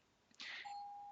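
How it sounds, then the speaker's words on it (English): A doorbell rings once indoors during a quiet game review: a bright chime burst followed by a sustained electronic tone that hangs steadily to the end, alone with no talk. "Oh, that's a doorbell."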